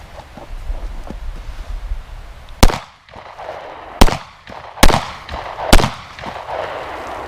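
Four loud, sharp gunshots from a .40 Smith & Wesson pistol firing 175-grain ballistic-tip duty ammunition at an outdoor range. The shots are spaced irregularly over a few seconds, and each crack has a short echoing tail.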